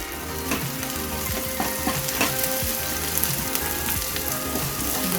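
Spring onion sautéing in hot oil in a pan over a high flame, a loud, close crackling sizzle with crisp popping and stirring clatter running without pause.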